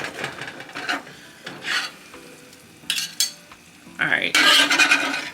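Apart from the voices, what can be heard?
chopping a chopped cheese sandwich on a griddle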